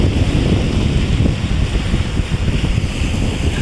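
Strong wind at sea off Batangas buffets the microphone in a continuous roar, with water sloshing underneath and no voices.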